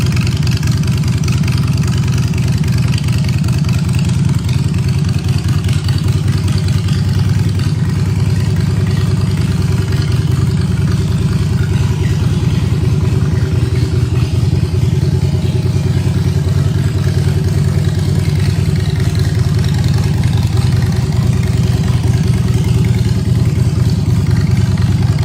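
A 2006 Harley-Davidson Sportster 883 running steadily at idle, a loud, close, continuous low rumble with an even throbbing pulse and no talk over it.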